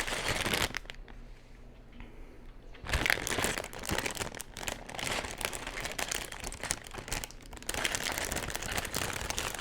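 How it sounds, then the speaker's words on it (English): Lego plastic parts bag being crinkled and handled during a build of the Mars Research Shuttle set 60226, giving a steady close crackling rustle with a brief quieter pause early on, no talking. "How much crinkling can Aaron make? Can he make all of the crinkling?"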